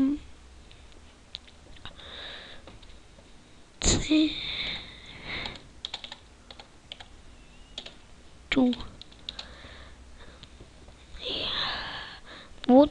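Bursts of typing on a computer keyboard, with clustered key clicks and occasional louder taps, under a voice talking intermittently.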